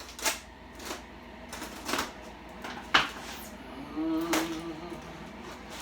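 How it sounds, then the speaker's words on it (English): Wrapping tape on a package being cut open, heard as several sharp, close scrapes and slices spaced about a second apart over a low steady room hum. "Now we'll cut this tape, this wrapping tape here."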